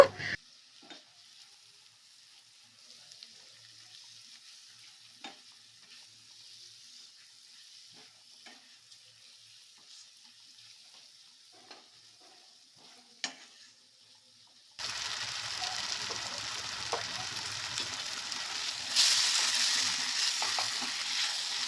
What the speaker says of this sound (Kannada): ಟೊಮ್ಯಾಟೊ ಆನಿಯನ್ ಎಲ್ಲ ಸ್ಮೂತ್ ಆಗಬೇಕು. ಚೆನ್ನಾಗಿ ಫ್ರೈ ಮಾಡ್ಕೊಳ್ತಾ ಇದ್ದೀನಿ.